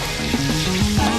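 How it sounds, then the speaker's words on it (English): Vietnamese sizzling pancake with pork and prawn frying on a Saigon street food stall, a close, continuous sizzle and crackle of batter in hot oil with clattering tones over it. "Sizzling pancake."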